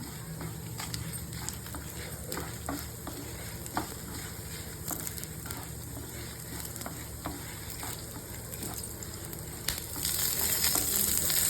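Dry red chilies fry in hot oil for a homemade mutton masala. A steady, close sizzle crackles throughout with occasional stirring scrapes, and it grows slightly louder toward the end.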